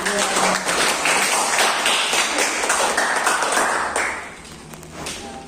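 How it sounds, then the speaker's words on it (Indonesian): A classroom of students claps together, a brisk crackle of many hands that holds strong for about four seconds before thinning out toward the end. "Tepuk tangan."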